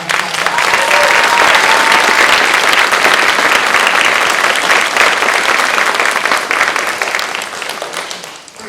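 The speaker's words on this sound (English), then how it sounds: "So please give them another round of applause." Enthusiastic audience applause for a band concert fills the room, dense steady clapping from a large crowd that fades slightly toward the end.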